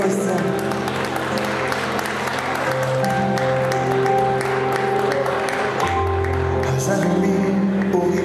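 An audience applauds at a ballet show, the clapping merging into a dense wash while music plays on underneath, both steady and fairly loud throughout.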